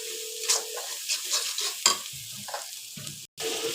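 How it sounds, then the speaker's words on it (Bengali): Ground spices fry and sizzle in a hot pan while a spoon stirs and scrapes them in uneven strokes, a steady close crackle with short scraping bursts and one brief gap near the end. "তো দেখতে পাচ্ছেন এখানে আমি মশলা সব বেজে নিচ্ছি।"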